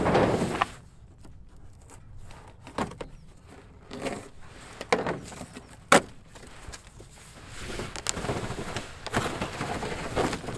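A knife cuts open a cardboard box of Max Grip traction pads, close up, with scattered scraping slices, sharp cracks and rustling cardboard at an uneven pace.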